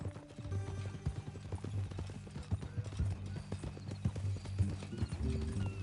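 Horse hooves clip-clopping in a video game, a quick, irregular run of hollow knocks at moderate level over a low steady hum and faint background sounds.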